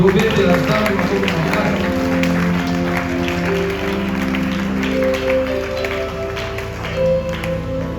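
A church congregation applauds during a worship service, with steady massed clapping that continues throughout, mixed with voices and tonal singing or music.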